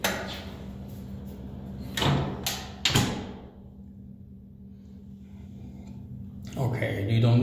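A garbage chute door in a building is pulled open and pushed shut, giving sharp clunks and thuds around two and three seconds, then quiet before another rattling bang, with a person talking nearby.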